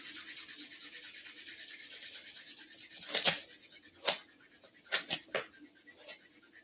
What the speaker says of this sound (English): And then gently rub the palms together.